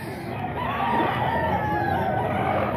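A golden boy gamefowl rooster crows in a long drawn-out call close by, against a steady background of other birds and ambient noise.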